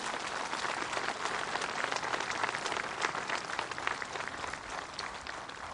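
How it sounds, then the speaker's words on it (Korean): Audience applause at an Armed Forces Day anniversary ceremony, a broad, even wash of many hands clapping continuously, fairly distant and rain-like in texture, with no voices over it. "수상자들에게 다시 한번 축하의 박수를 보내주시기 바랍니다."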